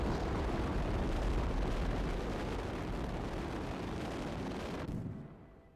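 A rocket engine igniting in the Kerbal Space Program RP-1 game, a sustained broadband roaring rumble that holds steady for about five seconds before cutting off abruptly, fairly quiet overall.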